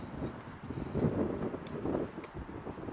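Strong coastal wind buffeting the microphone at low tide along the shore on a bike ride, a continuous low rumbling gusty roar, fairly faint, with no talk.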